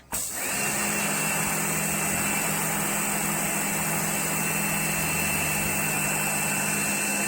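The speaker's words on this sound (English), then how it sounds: "So the best way to deal with this is to use your trusty pressure cleaner." Pressure washer spraying a wall to strip moss before painting, a loud continuous motor drone and hiss starting abruptly and running steadily throughout without talk.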